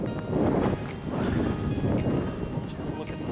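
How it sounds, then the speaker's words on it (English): Gusty wind outdoors at a tractor fountain ahead of an incoming storm buffets the microphone, a continuous low rumbling roar with fluctuating loudness throughout. "Hopefully that wind, it's kind of windy out."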